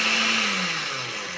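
A blender grinds chopped turnips with a loud, steady motor whine that sags slightly in pitch as the blades labor through the load, with no voices.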